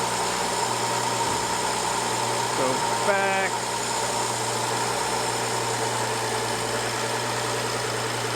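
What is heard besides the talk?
BMW car engine idling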